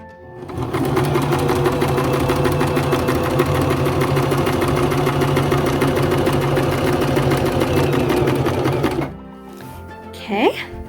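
A sewing machine stitches fabric for a scented sachet, a steady fast mechanical whir with rapid needle clatter close by that runs for about nine seconds and then stops.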